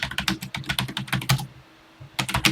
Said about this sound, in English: Let's get into TI Basic and start typing.